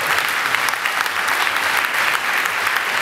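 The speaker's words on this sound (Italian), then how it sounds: "riformulerei un forte applauso a tutti i bambini" A theatre audience applauds schoolchildren at the Teatro Centrale di Carbonia with dense, even, sustained clapping that fills the hall from start to finish.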